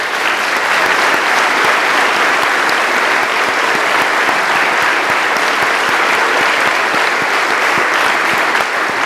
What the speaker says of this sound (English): let's give Father Greg one more round of applause